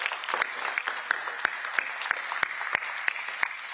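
Audience applause during a talk, a steady wash of many hands clapping with sharp individual claps standing out at a brisk, fairly regular pace.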